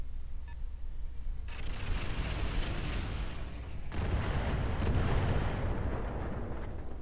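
Missile explosions in the mech combat game Roguetech come as rumbling, crackling booms, with a deep blast near the start and a heavier, louder barrage swelling in later, forming a continuous roar with no talking.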